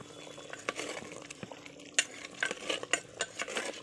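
Country chicken curry being stirred and sautéed in a clay handi over a low flame: scattered spoon scrapes and clinks against the pot over a faint sizzle, close and intermittent.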